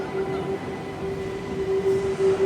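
An empty MEMU train rolls past at a crossover near Yakutpura, giving a steady rumble of wheels on track with a sustained tonal hum and a few louder swells.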